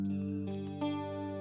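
A clean, bright electric guitar with simple stereo reverb, recorded in a studio, plays sustained ringing chords that change twice in quick succession and blend into a smooth, shimmering tail.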